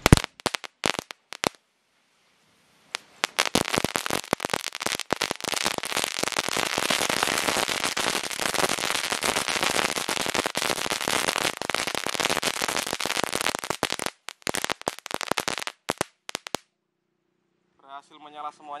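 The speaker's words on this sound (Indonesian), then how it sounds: "mercon kretek 5 pak kita nyalakan semuanya" Five packs of mercon kretek firecrackers rattle off together in a long, dense barrage of rapid, continuous bursts, with a few scattered pops before and after, fairly close and loud.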